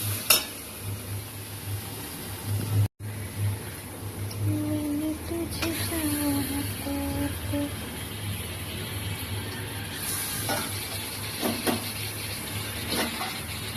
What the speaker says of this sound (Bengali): চিকেনটা দিয়ে ভালো করে কষাবো